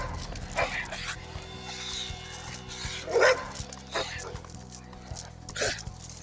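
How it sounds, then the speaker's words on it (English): A dog barks in the distance in a few short, scattered bursts, faint beneath closer background sound, with people talking over it. "there's another dog in the distance."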